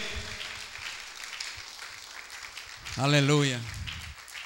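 A church congregation claps through the first three seconds of a Christian concert, a steady patter of hands, before a single voice rises over it singing a drawn-out exclamation.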